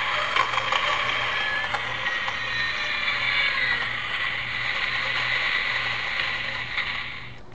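A 1/15-scale Back to the Future DeLorean toy car's electronic driving sound plays continuously, a buzzy whirring engine tone through a tinny speaker with a faint low hum beneath.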